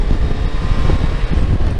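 Strong wind buffets the microphone during a Kawasaki Versys 1000 moto-camping trip in Minnesota, making a loud, dense, low rumble that gusts unevenly throughout with no voices.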